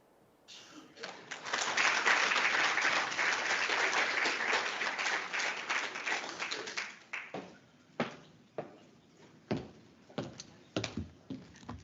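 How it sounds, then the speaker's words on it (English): An audience at the NEDLAC keynote address by Deputy President Paul Mashatile breaks into loud, sustained applause that builds quickly, holds for several seconds, then thins into scattered individual claps before fading. "Honorable Mr. Paul Mashatile, can we have another round of applause, please?"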